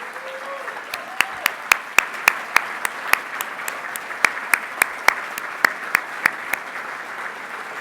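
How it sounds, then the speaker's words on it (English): An awards dinner audience applauds scholarship students with a steady run of sharp, distinct claps, a dozen-plus crisp hits rising over a soft room murmur. "give them a round of applause"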